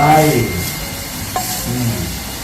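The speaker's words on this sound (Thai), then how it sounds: "น้ำแกงเดือดแล้วนะครับ ปลาหมอลงไป" Curry broth bubbling and simmering in a pot as climbing perch fish go in, a steady soft seething close by, with a voice talking over the start.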